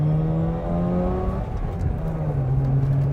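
A car accelerates hard through the gears on a driving pass, its engine note a loud, steady drone that climbs in pitch, drops at a gear change, then rises again close by.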